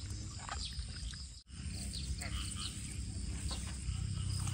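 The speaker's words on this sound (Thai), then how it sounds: "เสียงกบสนั่นวันไหวเพิ่นน่ะ" A loud, dense chorus of frogs croaking in a rice field freshly soaked by heavy rain, a steady wall of overlapping calls that runs through the whole stretch with only a momentary dip.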